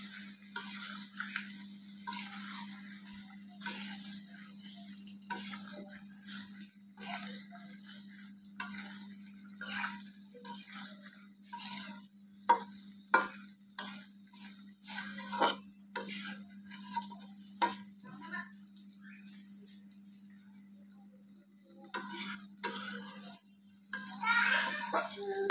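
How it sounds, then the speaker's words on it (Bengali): Fried eggplant and potato pieces are gently tossed with spices in a pan, producing a long run of soft, close stirring scrapes and utensil clinks over a low sizzle, with quiet pauses in between. "বেগুন আর আলুগুলো আমি তেলে একটু ভেজে নিয়েছি। আলতো হাতে মশলার সাথে একটু মাখিয়ে দিচ্ছি।"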